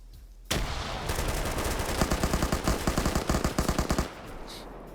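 Machine gun fire in a multiplayer PvP shooter match: a sustained, loud automatic burst of rapid, evenly spaced shots lasting several seconds at close range, then cutting off into lingering echo.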